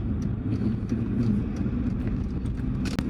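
An Alfa Romeo 159 drives along on a freezing day, its engine and road rumble heard from inside the cabin as a steady, low drone with light rattles and no talk.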